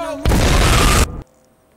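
A loud, sustained explosion blast in the VR game Accounting Plus, a dense roar of about a second that cuts off abruptly into near silence.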